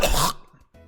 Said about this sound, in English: that was just like phlegm in the back of my throat cough